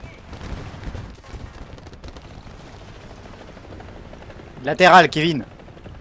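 An aircraft in War Thunder, heard during a match in an IS-7 tank, makes a steady engine drone in the background while a player talks, with one loud burst of voice near the end.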